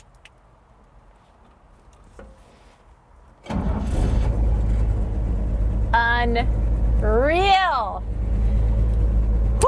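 A 1953 Chevy 3100 truck engine, newly converted to 12 volts, cranks, catches at about the three-and-a-half-second mark and keeps running with a loud, steady idle and some revving. A voice cheers and speaks over the running engine.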